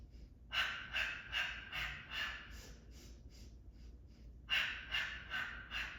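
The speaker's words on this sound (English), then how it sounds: "Don't forget the sniffing breath." Sniffing breaths during a Pilates breathing exercise, a rhythmic run of short nasal inhales in two bursts separated by a pause, soft and close.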